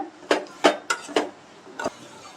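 A spoon clinks against a pot while tomato soup with coriander is stirred, six sharp, close metallic taps spaced unevenly over a couple of seconds, with no voice over them.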